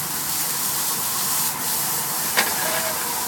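Vegetables for spicy beef noodles sizzle as they heat in a pan, a loud, steady close hiss with a single sharp pop partway through.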